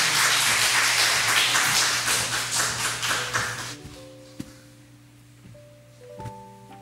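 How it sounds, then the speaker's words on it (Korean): A church congregation claps in welcome, a dense burst of applause lasting a few seconds before trailing off into sparse taps and quiet room tones. "박수로 우리 환영해 주시면 감사하겠습니다"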